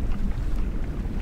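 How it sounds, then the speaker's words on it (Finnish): Wind blowing across a campsite in the Vätsäri wilderness, heard as a steady, low rumbling buffet on the microphone with no voices. "Heti rupes vähän tuulemaan."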